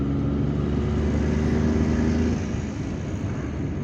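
On a city road, a car's engine drones loudly as it accelerates to overtake a truck, a steady close roar with tonal hum that eases off partway through; no talking.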